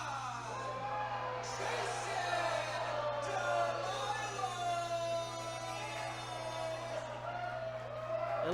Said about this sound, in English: it sounds like we have a crowd that's a little divided